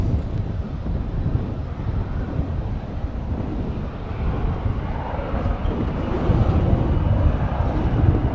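A small airplane taking off from a DFW runway, heard as a steady engine roar that swells slightly toward the end, heavily buffeted by wind noise on the microphone.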